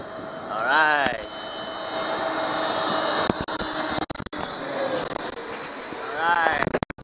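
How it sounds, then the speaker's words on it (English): A jet engine roars steadily overhead, swelling and fading as an airplane passes low while landing at Reagan National Airport, heard from a boat at Gravelly Point, with wind noise and brief rustling bursts. "Okay, once again the plane is landing."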